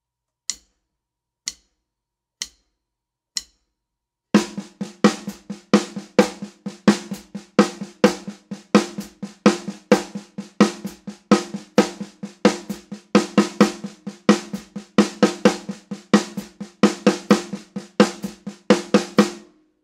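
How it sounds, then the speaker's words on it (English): Snare drum playing an eight-stroke sticking pattern as 16th notes: four isolated single hits open it, then a continuous rapid stream of sharp strokes with regularly recurring louder accents among softer ghost notes, close and dry with no voice. "Played as 16th notes on just the snare drum, the pattern sounds like this."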